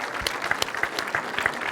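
Audience applause at an event, a steady patter of many hands clapping with a few sharper claps standing out, moderately close and with no talking over it.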